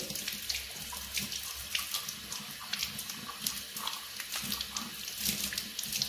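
Tap water runs steadily into a sink as a soft cleaning glove for makeup brushes is rinsed, a continuous splashing hiss with small shifting swirls, close and alone with no voices.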